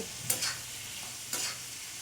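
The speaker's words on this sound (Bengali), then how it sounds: "এবার ভালোভাবে সবকিছু মশলা উপকরণের সাথে একেবারে মিশিয়ে নেব।" Ginger, garlic and chilli paste with spices is stirred in a frying pan, a faint low sizzle punctuated by two quick scraping strokes of the spoon, close by.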